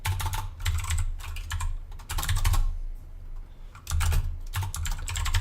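Code typed on a computer keyboard: bursts of rapid, close key clicks and taps separated by short pauses, with no talking.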